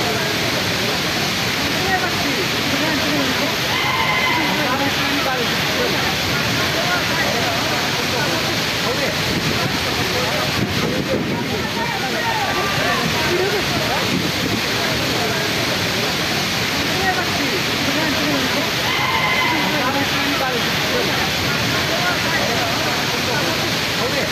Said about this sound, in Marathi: मोठ्या प्रमाणात इथे वॉटरफॉल होते.